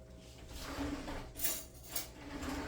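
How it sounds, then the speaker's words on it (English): A spoon is grabbed in a home kitchen while ground beef cooks for homemade taquitos, with light cutlery and dish clinks over a soft background hum and two sharper clinks close together. "Let me grab a spoon."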